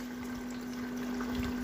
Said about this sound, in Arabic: تبدا الغساله عندي تسحب ميه